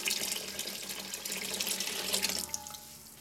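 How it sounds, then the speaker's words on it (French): Filtered water streams steadily into a cooking pot for chorba, a continuous close splashing rush that lasts the whole moment with no talk. "Et là, c'est bon, on va pouvoir ajouter l'eau."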